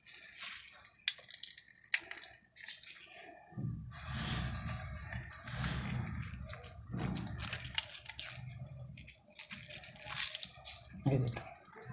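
Grated radish pressed and squeezed by hand in a kitchen, releasing water in a series of wet splashing and dripping bursts, fairly close and moderately loud, with no talk.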